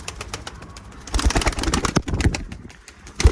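Young pigeon beating its wings during wing exercises, a burst of close, irregular flapping and fluttering that rises after a quiet start, with a few soft coos and bird sounds mixed in.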